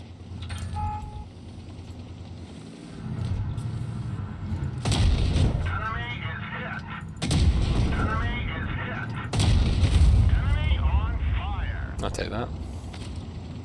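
Tank cannon shots in World of Tanks Blitz during a professional championship match, heavy booming blasts at intervals under continuous commentator talk.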